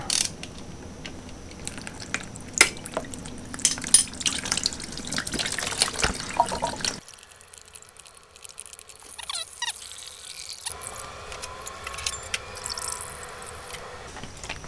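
Coolant drains out of a Yamaha YZ450 motorcycle radiator as a trickling, splashing stream, broken by a pause and then resuming, with clicks and clanks of handling nearby and no speech.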